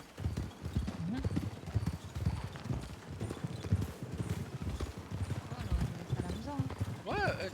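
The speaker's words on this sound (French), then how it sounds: "mon cheval pulvérise Ellie." Steady clip-clopping horse hooves in a western video game, riding into a frontier town, with a rhythmic gait running throughout under continuous conversation between players.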